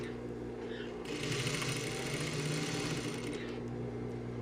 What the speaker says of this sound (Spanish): voy dando una costura por todo el contorno